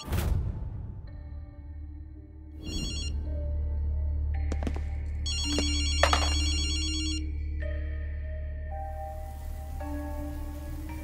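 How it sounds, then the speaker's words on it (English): A telephone rings in the video game Ghostwire: Tokyo with repeated electronic trilling bursts over a steady bed of rain and low ambience, fairly loud and close, with no talk. "So I rigged this phone to ring periodically and play back a recording."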